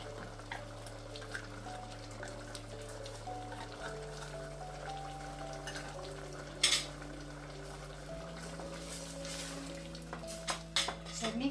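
Pork spareribs caldereta with liver spread is stirred in a pan, giving soft scraping and spoon-on-metal clinks over a steady low sizzle, with a sharper clatter partway through and a few knocks near the end.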